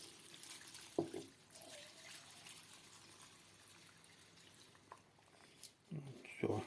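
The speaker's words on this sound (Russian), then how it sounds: "Заливаю водой." Water is poured into a pot over brisket and onion skins, a faint running, trickling flow with a few splashes and drips, close by.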